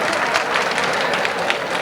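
Sustained audience applause in a hall at a Delhi public event, steady dense clapping throughout, fairly loud and continuous with no voice over it.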